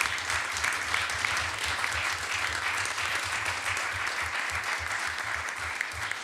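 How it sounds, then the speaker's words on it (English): Sustained applause from an audience at a school board meeting honouring students, a broad, even wash of many hands clapping at steady loudness throughout, with a faint low hum running underneath. "a round of applause for their students that provided so much help"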